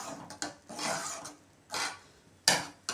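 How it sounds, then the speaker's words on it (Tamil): A ladle stirring milk and vermicelli in a pot for semiya payasam, giving soft scraping and rubbing strokes in separate bursts with a sharper clink near the end, quiet and close. "நல்லா கிண்டி விட்டுடலாம்."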